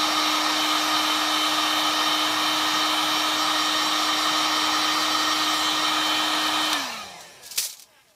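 A heat gun blows hot air onto a Worbla thermoplastic sheet layered over foam, a steady loud whirring hiss with a fixed hum that winds down near the end, followed by a brief clatter.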